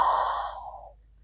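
A single deep, airy exhale during a yoga flow, close and soft, trailing off into quiet within about a second.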